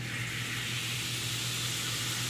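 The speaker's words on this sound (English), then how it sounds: "Melted butter right into the skillet." Melted butter sizzling in a hot skillet, a steady dense hiss that holds evenly and fairly loud throughout with no pause.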